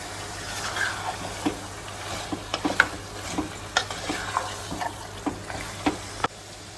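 Mutton pieces stirred in a frying curry pan, a spoon knocking and scraping the metal in irregular taps over a steady sizzle, close and clear.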